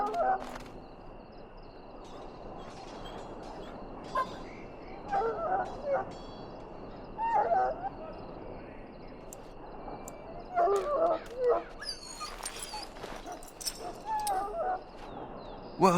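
A dog whimpers in the video game Dragon Age: Origins: short, high, whiny cries come in scattered bursts over a steady low background hum, fairly faint and spaced several seconds apart.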